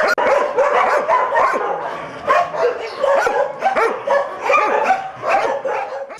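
Dogs at a dog breed show bark and yip repeatedly in quick, irregular bursts, fairly close and loud, with several barks overlapping and brief whimpers between.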